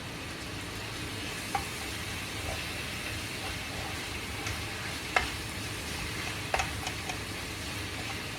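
Italian sausage with cracked pepper is stirred in a pan, giving a steady low sizzle and faint scraping, with a few soft clinks of the utensil and no talking.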